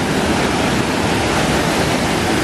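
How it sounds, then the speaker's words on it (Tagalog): The waterfall at Disney California Adventure gives a loud, steady rush of falling water, a dense broadband roar that goes on without a break and carries no voices. "And this is the waterfall."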